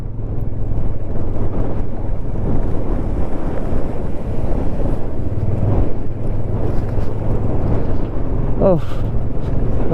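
Strong wind roars against the microphone during an off-road ride on a Bajaj Avenger 160 motorcycle in Mustang, Nepal. The rumbling buffeting is loud and constant, and a voice is faintly present beneath it.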